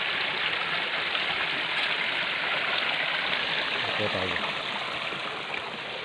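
A river running steadily nearby, continuous broadband rushing of water throughout with a short spoken phrase partway through.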